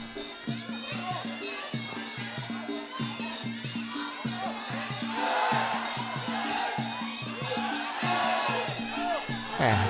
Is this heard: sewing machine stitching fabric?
no